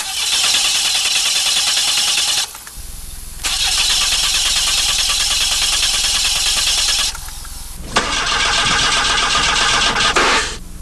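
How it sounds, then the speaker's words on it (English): Repeated start attempts on a Saab car engine: three loud bursts of cranking and running, each cut off by short pauses, heard close and strong with no talking. "Take one engine, trying to start."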